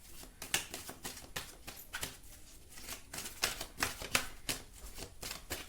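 Tarot cards are shuffled and drawn by hand, producing a quick, soft series of papery flicks and slaps in irregular bursts, close and faint, with no talking.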